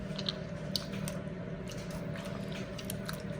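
Thick soursop pulp thinned with water is pressed through a strainer, giving soft, intermittent wet squishing and faint clicks, quiet and close, with no talking.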